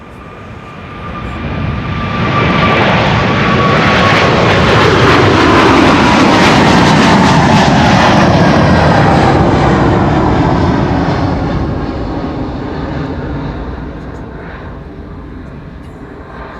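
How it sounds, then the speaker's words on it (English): KLM Flight 597 to Cape Town takes off from runway 24, the Kaagbaan, at Amsterdam Schiphol. A loud jet roar swells quickly, holds powerfully for several seconds and then slowly fades as the airliner moves away. "KLM Flight 597 going to Cape Town in South Africa."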